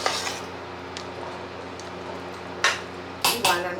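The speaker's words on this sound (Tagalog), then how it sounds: "ngayon, hahaluin natin bago natin tikman" Spaghetti meat sauce being stirred in a pot for Filipino-style spaghetti, with several sharp metallic scrapes and clinks of a utensil against the pot over a steady low hum, close and moderately loud.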